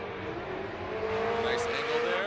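A Nissan S14 drift car on Falcon tires during drift qualifying, its engine note rising in a steady whine as it comes through, fairly distant under a wash of crowd and track noise.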